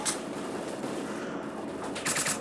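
Gunfire in the shooter STALKER Clear Sky: a continuous rattle of automatic fire, dense and steady, at moderate loudness throughout the short stretch.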